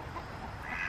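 Farm ducks quack in a brief, moderately loud burst of noisy calls, with no speech.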